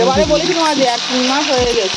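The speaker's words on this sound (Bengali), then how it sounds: "তেলের মধ্যে ভালো করে আমি ভেজে নিচ্ছি" Potatoes frying in oil give off a steady sizzling hiss under a voice speaking throughout.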